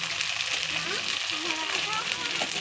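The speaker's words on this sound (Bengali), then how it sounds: "দেখো মশলাটাকে এবার লাল লাল করে কষানো হচ্ছে দেখো" Spice paste of ginger, cumin and green chilli frying in a pan for a rainy-day khichuri meal, a steady broadband sizzle throughout with faint voices talking over it.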